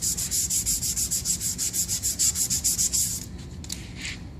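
Fine sandpaper rubs back and forth on an aluminum lower fork leg in a fast steady rhythm of about twenty close, hissing strokes, ending with a few softer scrapes.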